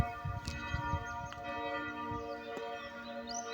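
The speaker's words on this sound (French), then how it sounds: "Oh, c'est fabuleux d'entendre ces cloches." Church bells peal in a steady, overlapping ring, their sustained tones layered and resonant with clangs recurring throughout, heard alone without voices.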